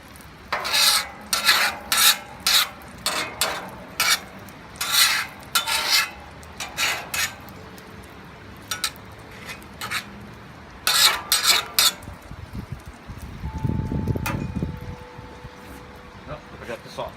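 Eggs being scrambled on a Blackstone griddle with two burners on high: repeated close metal scraping and rasping strokes in bursts, followed by a louder sizzling, rumbling stretch, with someone speaking at times.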